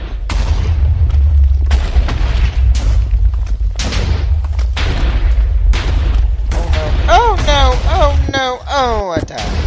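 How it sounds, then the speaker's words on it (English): Repeated deep booming cannon explosions in Minecraft roll in one after another, loud and close, with excited voices talking over them and a few sweeping synthetic tones near the end. "Oh, the cannon's coming!"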